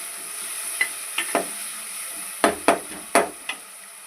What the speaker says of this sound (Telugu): ఇలా టమోటా వేసుకొని బాగా వేగనివ్వాలి.